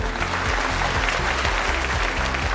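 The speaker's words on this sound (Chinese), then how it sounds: "让我们掌声欢迎他们" An audience applauds steadily to welcome two plastic surgeons onto the stage at an annual plastic-surgery industry competition, a dense, even clapping that fills the clip over a faint repeating low musical pulse.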